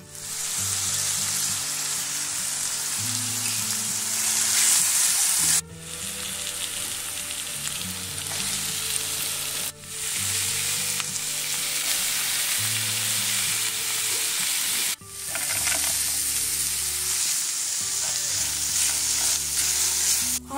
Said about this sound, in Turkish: Ardarda kırmızı biberleri, mor lahanaları, dolmalık fıstıklarımı da teker teker tavama alıyorum.